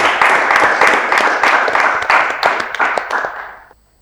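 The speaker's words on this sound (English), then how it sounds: "A round of applause for them." An audience at an inter-school engineering quiz semi-final claps for the winning college team, a loud burst of many hands that runs for about three seconds and then fades out quickly.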